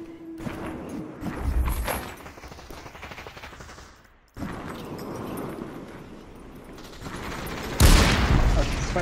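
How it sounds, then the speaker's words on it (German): Rapid bursts of gunfire in the VR battle royale game Population: One, crackling fusillades with a sharp loud burst near the end, heard amid game ambience and faint voices. "Jetzt schießen sie schon auf dich."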